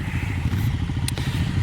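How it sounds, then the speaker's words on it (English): A group of adventure motorcycles rolls in, a steady low engine rumble with a regular throbbing pulse running throughout, plus a brief clatter partway through. "Everyone's rolling in just as I'm making my video. It's quite the crew of adventure bikes"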